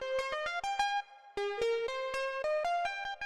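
An ultra pith microtonal scale is played as a run of about twenty short, bright, plucked-sounding notes with tiny pitch steps, many nearly indistinguishable, in a steady rhythm broken by a brief pause midway, close and clear with no talk.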